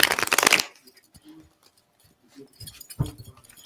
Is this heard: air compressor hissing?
no